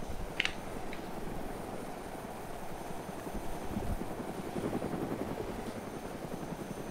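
A helicopter in the DayZ mod game drones steadily with a continuous rotor and engine roar throughout, with no talk over it.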